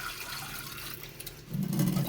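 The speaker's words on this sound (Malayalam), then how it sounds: "നന്നായിട്ടൊന്ന് വെള്ളത്തിൽ ഇങ്ങനെ ഒന്ന് കഴുകുക" Small herbal ingredients are washed in water, a faint sloshing and swirling that grows louder toward the end, with no talking.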